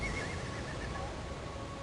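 A horse whinnies in a movie scene, one clear drawn-out neigh heard close and loud over a steady background rumble.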